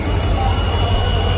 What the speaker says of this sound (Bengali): আমাদের ট্রেন এখন হাওড়া স্টেশন ছেড়ে দিল